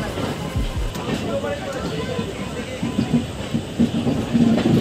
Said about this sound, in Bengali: তারপরে আবার এখন আবার চালু হয়েছে ট্রেনটা